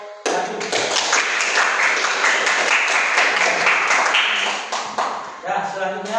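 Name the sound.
applause for group 1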